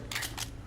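Weapon reloading in the zombie shooter Left 4 Dead 2: two quick metallic clicks, a brief clack followed by a second snap, heard close and sharp over a low game background hum.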